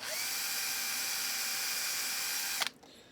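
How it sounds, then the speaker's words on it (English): A drill whirs steadily with a high whine while boring pilot holes in the body of a Gibson Les Paul guitar, running about two and a half seconds before stopping abruptly. "now what I'm going to do, I'm going to drill the pilot holes."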